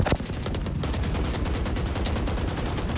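Fast automatic gunfire in the video game Valorant, a steady rapid string of close, loud shots running through the whole clip without talk.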